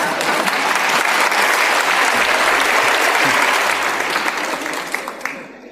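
An audience at an inspirational talk breaks into loud, steady applause that fills the room for several seconds before tapering off at the end, with faint voices mixed in.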